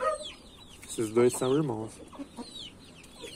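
Chickens and a young hen cluck in a backyard flock, with soft calls scattered through, while someone speaks Portuguese nearby over them.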